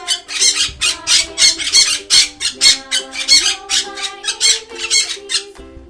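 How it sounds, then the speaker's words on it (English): A parrot squawks in a rapid run of harsh, rhythmic calls, about a dozen bursts close together over a few seconds, loud and close with no talk. "P for parrot."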